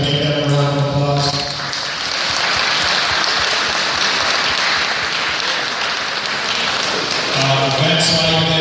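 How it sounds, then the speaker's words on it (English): Crowd applause fills a pro boxing event at a recreation center, a dense, steady wash of clapping that swells after a brief dip and then holds, with voices mixed in beneath it. "together, can we give them a round of applause?"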